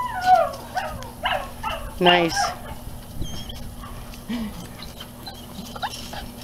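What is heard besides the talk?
Dutch Shepherd dog whining and vocalizing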